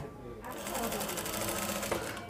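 A sewing machine runs in a rapid, steady stitching burr while it sews the body and side panels of a kolidar panjabi. A voice talks over it.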